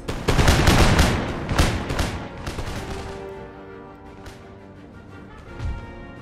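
Musket volley fire in Empire Total War: a dense run of overlapping loud gun cracks in the first two seconds, thinning to scattered shots and a fading rumble, with one more sharp report near the end.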